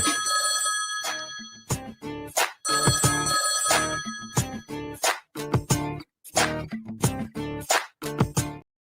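A telephone rings in a steady repeating pattern of bright electronic bursts separated by short gaps, loud and close, with no talking over it.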